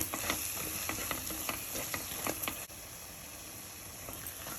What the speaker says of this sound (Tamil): இந்த எண்ணெயிலே சேர்த்து இந்த மிளகாத்தூளை வந்து நல்லா கலந்து விடுங்க